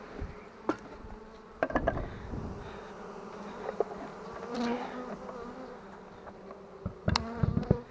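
Honey bees buzz in a steady, close drone around an open hive, with individual bees flying past the listener and a few faint knocks as the hive is closed.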